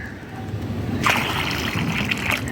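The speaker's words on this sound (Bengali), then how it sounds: "এই পাত্রগুলোতে আমি জল দিই একদম ভরে ভরে জল দিই" Water pours and splashes into bird bowls filled to the brim in an outdoor garden spot, starting as a faint trickle and turning into a steady, close splashing stream after about a second, with no talk.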